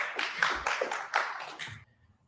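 A few people in a surrounding group clap in a short, scattered burst of hand claps lasting under two seconds, then stopping into near silence.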